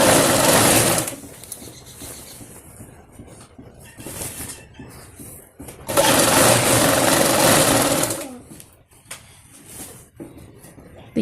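A sewing machine stitches salwar fabric in long loud runs, stopping and starting with brief quieter pauses between bursts of steady mechanical whirring.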